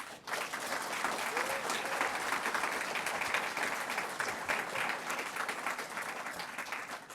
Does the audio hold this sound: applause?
yes